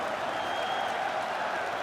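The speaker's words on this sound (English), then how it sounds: "So the crowd voicing its appreciation after that round" Arena crowd in the UFC 5 video game clapping and cheering after a round, a dense, steady wash of applause held at an even level throughout, without clear speech.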